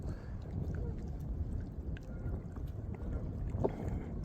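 Steady wind blows and buffets outdoors at a lake bank during fishing, a constant low rumbling roar with gusty swells, near and fairly loud, with a faint splash or knock near the end and no talking.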